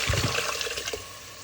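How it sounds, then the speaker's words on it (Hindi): About a liter of water is poured into a pot of fried mutton for aloo gosht, giving a close, splashy gush that fades to a softer trickle within a second and a half. "पानी ऐड करूँगी"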